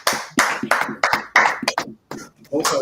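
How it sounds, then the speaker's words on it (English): Bursts of hand clapping in an uneven rhythm, close and loud, mixed with voices speaking between the claps. "clap it up"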